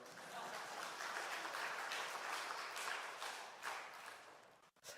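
A church congregation at a Sunday morning service applauds in a steady, dense wash of clapping that holds for several seconds, then drops out briefly near the end.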